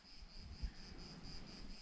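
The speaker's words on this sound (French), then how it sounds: "on entend les cigales" Cicadas on the slopes of Mont Ventoux, a faint, continuous high-pitched whirring drone held steady from start to finish, with light wind rumble underneath and a soft thump partway through.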